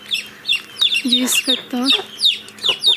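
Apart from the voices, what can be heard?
chicks squawking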